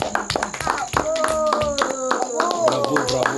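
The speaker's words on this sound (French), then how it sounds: "applaudissons pour le Seigneur." A worship congregation claps in a steady beat while singing, with children's voices in the mix and a held sung note running through.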